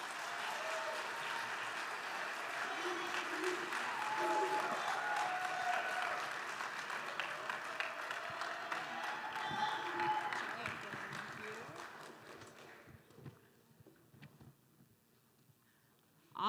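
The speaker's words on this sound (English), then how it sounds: "Let's give them a round of applause." Sustained applause from a large audience at a student challenge event, steady and dense for about twelve seconds before fading out, with cheering voices in the crowd.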